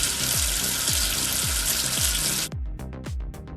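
Cartoon tap water gushing steadily in a kids' washing game as soap is rinsed off, with repeated bubbly plopping sounds at a steady beat, the stream cutting off partway while the pops continue.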